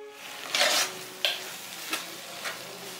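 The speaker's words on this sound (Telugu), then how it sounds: "సో ఈ తురుము కొంచెం ఉడికేంత వరకు కుక్ చేసుకోవాలి." Grated raw mango cooking with mustard seeds in a pan, a quiet sizzle punctuated by four spaced stirring scrapes, the first longest, each fading quickly.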